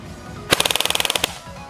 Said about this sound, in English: I have the gun flipped over to full auto, so here we go. I'm going to be doing probably around 3 bursts,